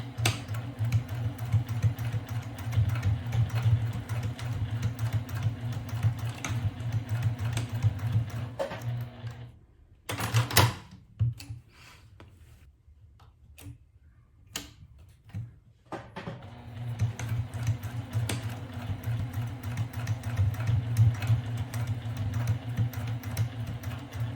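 A sewing machine stitches the corners of a zipper pouch with a close, steady, whirring run. It stops for a few seconds of quiet handling and then starts stitching again.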